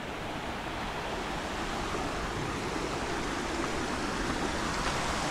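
Water spills over and falls down like a small waterfall in the Konkan countryside, making a steady, dense rushing roar that stays even throughout and is heard alone.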